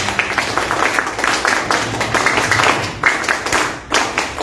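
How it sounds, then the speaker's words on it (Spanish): A crowd at a political meeting about agricultural proposals claps loudly and continuously, with a dense rattle of individual hand claps that rises and dips slightly throughout. "Fuertes palmas para él también."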